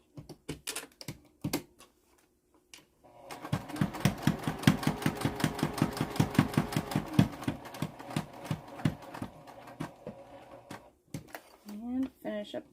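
A sewing machine stitches along a pocket edge in a steady rapid run of needle strokes for several seconds, with brief quieter pauses and handling noises before and after.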